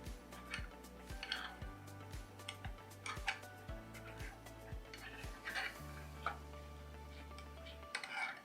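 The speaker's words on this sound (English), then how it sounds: "Just want to give it a good stir all the sides." Thick melted chocolate is stirred around the sides of a pot, giving soft scraping and occasional light clinks of a utensil against the metal, steady and close, with a quiet musical bed underneath.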